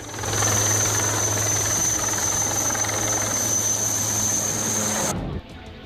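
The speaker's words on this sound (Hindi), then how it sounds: "और सड़क से उड़ान भरता हेलीकॉप्टर" A loud helicopter takes off from a flooded road in Shivpuri, Madhya Pradesh, its engine droning steadily with a rapid rotor thump and a high whine, close up, then cutting off abruptly near the end.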